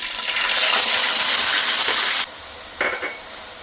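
Half a tablespoon each of fenugreek and mustard seeds fry in hot oil for a raw-tamarind fish curry, giving a loud, steady close sizzle that cuts off abruptly, followed by quieter crackling with one short renewed burst and no talking.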